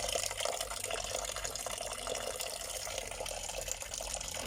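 Water runs steadily into a pot for oregano herbal tea, a continuous close gushing stream from a tap filling the vessel, with no talking.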